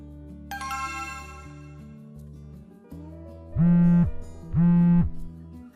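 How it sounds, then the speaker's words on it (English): Over soft background music, a loud electronic ringtone sounds twice in quick succession, close and steady. "pick up the phone"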